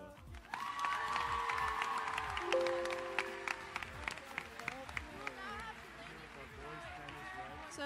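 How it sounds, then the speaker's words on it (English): An audience at a school homecoming assembly applauds and cheers, a dense burst of clapping that swells early and then thins to scattered claps, with crowd chatter and a voice over a sound system mixed in. "let's give one huge round of applause for Nathan Clevin and Aaron Amello"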